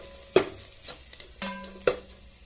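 Homemade puliyodharai masala being sautéed in a pan: a few scattered stirring scrapes and soft clatters over a low, faint sizzle, with no talking.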